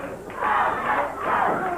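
A wrestling crowd at a 1981 CWA televised match roars and cheers loudly in two rising surges while manager Jimmy Hart tries to quiet them.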